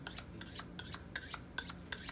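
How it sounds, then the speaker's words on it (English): A knife is stroked against a sharpening steel in an even rhythm, about seven close, crisp scraping swipes in two seconds with no voices. "This is a steel. It goes like this."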